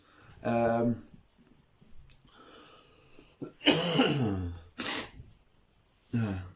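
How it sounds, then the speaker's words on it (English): Several throaty coughs close to the mic, spaced apart with quiet gaps between them, a couple of bursts sounding rough and strained. "You can see me cough"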